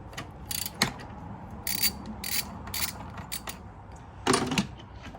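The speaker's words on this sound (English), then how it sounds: "So 12mm for all these bolts on the two sides, and all I have to do is just take them out." Ratchet wrench loosening 12mm bolts on a Nissan 350Z intake plenum, several short bursts of rapid clicking separated by quiet pauses, close and crisp.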